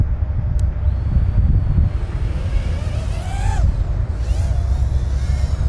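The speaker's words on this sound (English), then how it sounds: "It's a little bit windy today, flying in a different spot." Strong outdoor wind buffets the microphone throughout, a constant low roar while a small racing drone flies nearby, its faint whine rising and falling.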